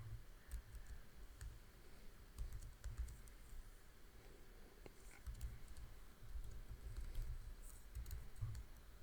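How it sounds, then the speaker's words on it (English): Rapid, quiet typing on a computer keyboard, with irregular bursts of key clicks and short pauses between them, close by and alone without talk. "So I'm typing out the directory in which our private key is located."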